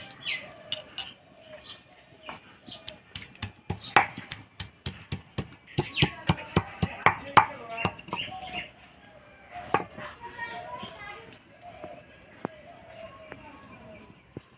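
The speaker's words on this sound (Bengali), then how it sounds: "এবার রসুন থেতো করে নিব" Garlic crushed by hand, a series of sharp thudding pounds in irregular bursts, loud and close, with quiet pauses between and a few softer knocks toward the end.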